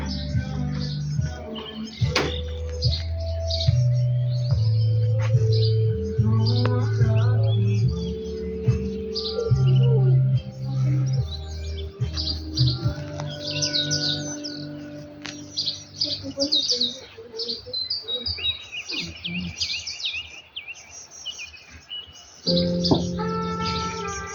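Birds sing and chirp throughout in Zakarpattia, Ukraine, with bright overlapping calls and trills, some close and loud, over a low steady background hum.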